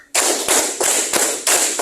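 Bursts of group hand clapping in a counting clap game during a classroom micro-teaching lesson, arriving in distinct close, loud clusters separated by brief pauses.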